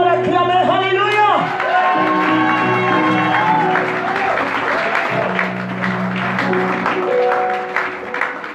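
A church congregation bursts into sustained applause with cheers and whoops, a loud crowd roar that swells early then slowly thins over several seconds, with singing-like voices mixed in.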